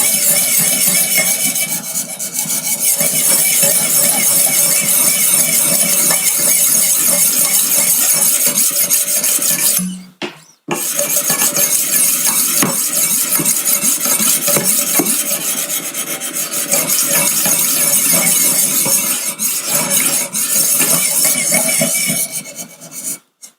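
Steady, loud rasping strokes of a knife blade on a Wicked Edge Go guided sharpener, continuous for about ten seconds, then a brief pause and another long run of grinding strokes.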